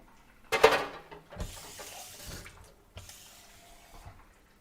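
Half a cup of water is poured in short bursts, with a splashy onset followed by steady running-water sounds, fairly close and unaccompanied by talking.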